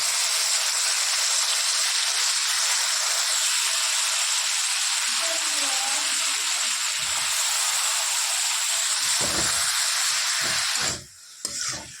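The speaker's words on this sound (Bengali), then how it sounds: "এবার দিয়ে দেবো কেটে রাখা লাউগুলো।" Chopped bottle gourd fries in spices in a pan with a steady, close, broad sizzling hiss throughout, a few stirring knocks near the end, and no talking.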